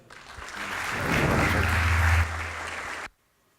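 Audience applause for panel guests, a historian and the Swiss ambassador, at a public dialogue event: a moderate swell of clapping with a low rumble underneath that cuts off abruptly after about three seconds.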